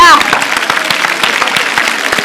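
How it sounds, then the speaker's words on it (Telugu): Audience applause after a joke on a Telugu comedy game show stage, steady dense clapping throughout with a brief voice at the start. "గర్ల్స్ ఒకసారి అందరికీ క్లాప్స్ కొట్టాలి"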